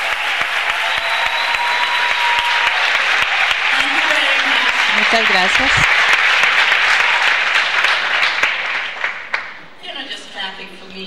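A conference audience gives loud, sustained applause for several seconds, with a few voices calling out over it. The clapping then fades while a speaker talks briefly.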